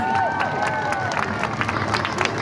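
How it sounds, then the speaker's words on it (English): Crowd at an outdoor diving show cheers and applauds a volunteer diver, a dense, steady roar of clapping and shouting with a few whistles cutting through, loud and continuous from start to finish. "Give a round of applause!"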